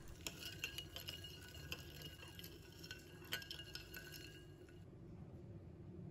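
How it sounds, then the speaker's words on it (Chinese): A spoon stirs salt into ice water in a bowl, with quick, quiet clinks against the bowl and light sloshing of liquid heard up close. The stirring trails off near the end. "我们准备适量的冰水，倒入碗中， 加入1勺的食用盐，把它搅拌均匀"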